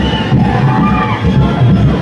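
A festival crowd at the Kalbhairavnath temple cheers and shouts continuously, a dense roar of many voices, loud and close, with a palanquin procession nearby.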